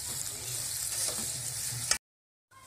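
Onions fry with salt in a pan, giving a close, continuous, hissing sizzle that breaks off suddenly into silence before faintly resuming.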